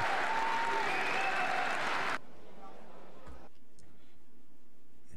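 Clapping from a seated audience in a legislative hall, a dense burst of applause lasting about two seconds that cuts off abruptly, followed by quiet room tone and faint sounds.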